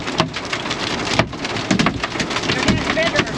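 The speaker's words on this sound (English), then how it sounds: "It's pretty big hail." Large hail hammering a stopped vehicle during a storm in Badlands National Park, a dense irregular drumming of hard impacts on the roof and windows, loud and close, with sharper cracks standing out.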